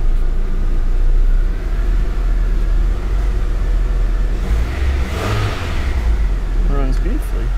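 A 2000 Honda CR-V engine cranks and turns over, then settles into a steady rumbling idle with a slightly raised cold idle, loud and close throughout with a brief rev in the middle.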